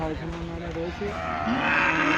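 Cattle at a crowded livestock market give low, drawn-out moos, several overlapping calls over steady crowd noise and murmured voices nearby.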